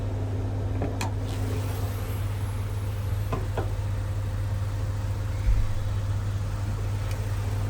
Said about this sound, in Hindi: तो ये है 1200 CC inline 4 cylinder Suzuki K12N dual jet dual VVT petrol engine